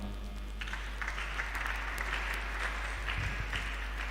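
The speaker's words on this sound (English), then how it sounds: "Please give him a round of applause." Applause fills the hall at a youth summit, a broad patter of clapping from many hands over a low steady hum, fairly even in level throughout.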